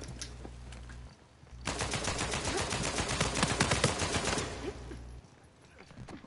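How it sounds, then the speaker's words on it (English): Rapid bursts of automatic gunfire from the video game Uncharted 4, a dense loud fusillade of shots lasting several seconds between quieter game sounds. "I hear gunshots."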